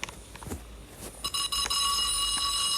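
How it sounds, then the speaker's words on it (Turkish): A steady electronic elevator alarm bell in a Roblox video game starts ringing partway through and keeps going, with a few soft knocks and thuds before it begins. "Aa bak alarm da çaldık."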